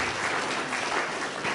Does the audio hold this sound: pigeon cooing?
no